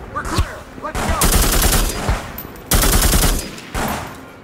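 Bursts of automatic gunfire in the Xbox game Reservoir Dogs, loud rapid rattling volleys with brief pauses between them, crowding the whole clip.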